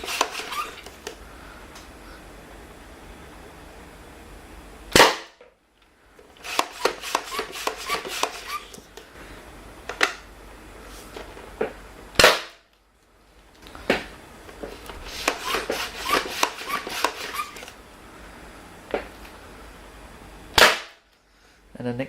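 A modified Nerf Air Tech 4000 turret fires darts from its barrels after being pumped. Single loud sharp shots are spaced several seconds apart, and rapid clicking pumping bursts fill the gaps between them.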